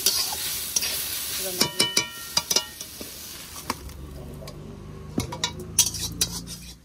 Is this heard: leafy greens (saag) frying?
yes